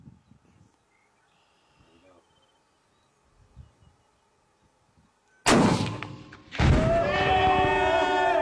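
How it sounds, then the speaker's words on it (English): A .338 Lapua rifle shot sets off 42 pounds of tannerite packed in a 1998 Volkswagen Jetta: after a quiet outdoor stretch with faint insects and distant voices, one huge near blast erupts and a second booming wave with rumbling debris follows. "shooting a Volkswagen Jetta with 42 pounds of tannerite"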